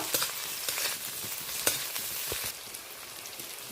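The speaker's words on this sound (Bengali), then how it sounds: "পেঁয়াজ আর টমেটো ভালো করে আবারও কষিয়ে নেব" Onion and tomato fry in a pan for a prawn curry with snake gourd, giving a soft, continuous sizzle broken by a few faint spatula taps and scrapes, with no voices.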